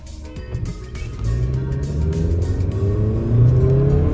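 A Jetta and a Honda Accord race, and engine noise rises into a swelling revving roar that climbs in pitch as the cars accelerate, loud and rumbling with no talking.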